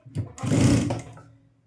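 A sewing machine stitches a blouse seam in one short motorized run lasting under a second, preceded by a brief soft tap, then trails off quietly.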